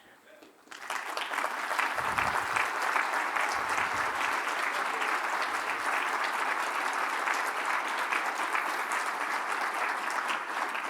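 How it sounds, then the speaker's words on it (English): Big round of applause in a hall for city department heads standing at a city address, starting sharply within the first second and holding a dense, steady roar of clapping to the end. "I really do want you to recognize them with a really big round of applause."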